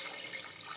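Water pours into a pot of mung beans on a stove, a soft, steady trickling stream that stays faint and even for a brief moment.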